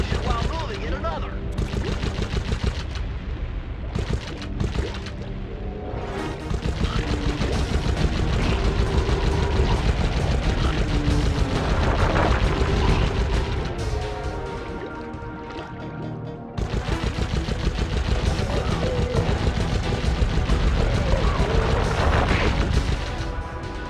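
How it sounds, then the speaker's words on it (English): High-energy cannon firing in the game Sly Cooper, a dense, continuous barrage of rapid shots and booms running throughout, loud and busy, with game music layered in. "Some sort of high-energy cannon."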